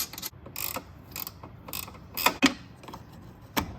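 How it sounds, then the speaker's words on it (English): A nut tightened down over a washer and lock washer on a battery terminal while an inverter is being set up, giving a few short ratcheting, creaking metal clicks in scattered bursts, close and fairly quiet, with no talk. "Washer, lock washer, nut. We'll tighten that up."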